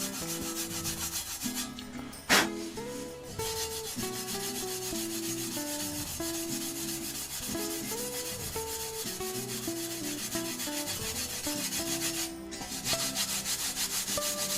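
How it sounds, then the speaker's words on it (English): Finer abrasive blocks rubbing back and forth over a rusty scythe blade being restored, giving a steady, continuous scraping hiss that runs close and loud without pause, with one brief sharp knock early on. "you can then polish it up with the finer blocks"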